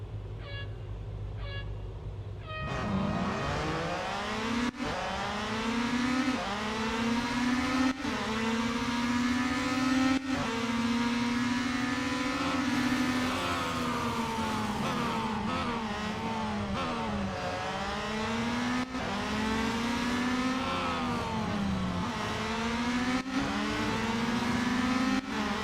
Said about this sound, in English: 10 lap cup race at Circuit de Catalonia